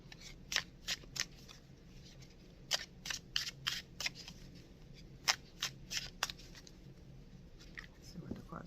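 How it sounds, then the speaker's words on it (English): A Simplicity Tarot card deck being shuffled by hand, a series of quick crisp riffling snaps in irregular bursts, close and quiet against a soft background hum. "today I'm going to be using the Simplicity Tarot. It's a pretty cool deck of cards."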